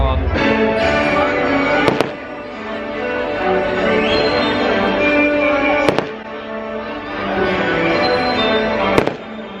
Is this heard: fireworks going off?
yes